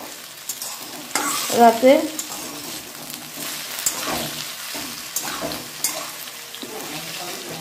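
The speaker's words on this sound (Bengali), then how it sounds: "আমি আলু ভাজা করছি" Potatoes fry in a pan for an evening meal, with soft sizzling and a few clattering stirs; someone speaks briefly over the cooking.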